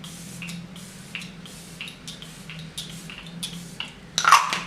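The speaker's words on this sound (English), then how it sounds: "I'm gonna take the Charlotte Russe spray again and just briefly spray my face." A few faint clicks and taps, then a short, hissing burst of face mist spray close by at the end.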